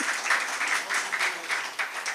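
A room of attendees at a book launch and felicitation event claps briefly, an even, moderately loud patter of many hands throughout.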